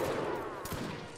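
Musket volley fire in an online skirmish match, heard as a dense, rolling crackle of overlapping shots at moderate distance, fairly faint and continuous for a brief moment.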